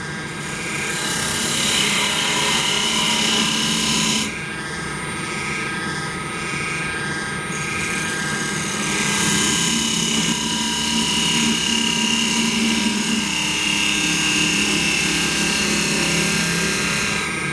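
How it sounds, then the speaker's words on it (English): A parting tool cuts into a large hollow wooden globe Christmas ornament spinning on a woodturning lathe, giving a loud, continuous droning whine with a rough scraping texture that shifts in tone partway through. "I'm just gonna use my parting tool for that."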